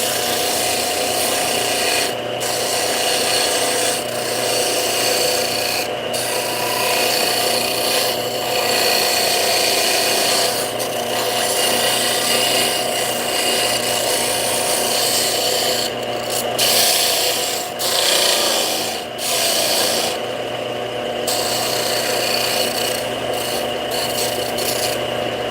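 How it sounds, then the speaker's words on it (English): A wooden musky crankbait lure is sanded by hand in a steady, continuous rasping scrape with brief pauses and shifts in stroke, loud and close. "we got a lot more sanding to do"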